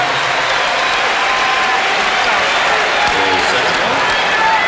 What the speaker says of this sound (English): And the crowd really getting into it now here in Portland.